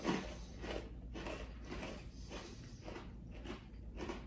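Quiet, repeated crunchy bites and chewing of a crunchy cookie, close up, in a steady rhythm of about eight crisp crunches.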